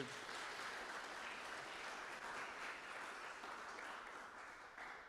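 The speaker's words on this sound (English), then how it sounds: "save some of that applause here for Terry Williams" Sustained audience applause at a Saturday morning session, a dense steady wash of many hands clapping that holds evenly loud throughout, easing slightly at the very end.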